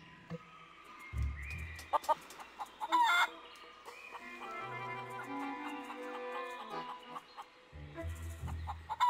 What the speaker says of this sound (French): quand on essaie de saisir un poulet, ça se passe mal